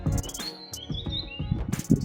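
Small birds chirp and tweet on a quiet hill at Roseberry Topping, several short high calls, moderately near, with soft rustling and footsteps beneath.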